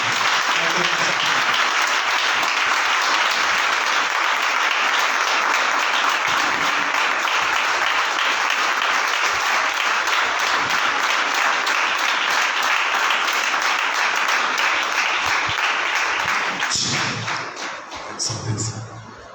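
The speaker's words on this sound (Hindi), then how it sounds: "तो मैं चाहता हूँ कि आप सभी जोर से ताली बजाएं परमेश्वर के वचन के लिए और प्रभु के दास के लिए।" A church congregation applauds loudly and continuously, dense clapping filling the room for most of the stretch before thinning out and fading near the end.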